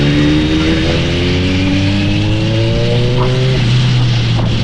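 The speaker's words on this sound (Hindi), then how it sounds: "पर इनलाइन 4 की बात ही कुछ और है, मज़ा आता है सुनने में" A loud, high-pitched inline-four superbike engine revs steadily and climbs in pitch, close up and continuous with no talking.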